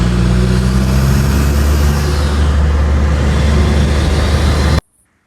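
A Honda CR-V 2.2 L diesel driven with its airbox removed gives a loud, close, steady engine drone with deep rumble and rising intake noise that holds for about five seconds and then cuts off abruptly.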